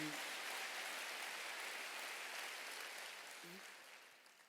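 A church congregation at a Sunday service claps together in a dense, even wash of applause that slowly fades away toward the end. It is heard from a distance and sounds quite faint.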